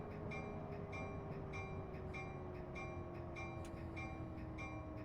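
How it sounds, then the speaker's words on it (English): An Amtrak Acela Express in Train Simulator rolls into a station with its brake applied: a steady, loud rail rumble under a slowly falling whine, with faint regular clicks throughout and no talk. "throw our brake on and see if we can't come to a respectable stop here"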